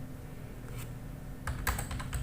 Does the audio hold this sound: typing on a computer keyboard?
yes